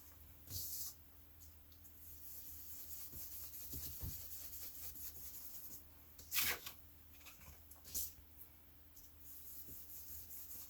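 An inked rubber stamp is rubbed along the edges of a card, making faint, soft scuffing strokes with a few brief louder swipes over a quiet background hiss.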